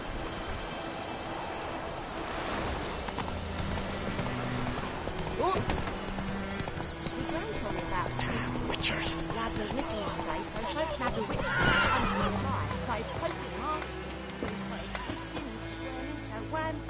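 Roach the horse gallops and neighs in The Witcher 3, hooves clip-clopping in a steady rhythm with a whinny rising partway through, over game music and spoken dialogue.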